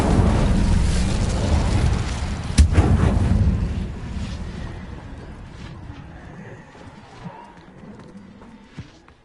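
A burst of Incendio fire magic cast in Hogwarts Legacy: a loud, broad roaring blast with a sharp crack near the start, fading into a low rumbling crackle that tapers off.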